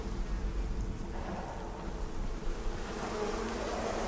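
Bees hum in a low, even drone in the game Icarus, blended with a rain-like wash across the whole stretch, moderately loud and continuous, with no speech.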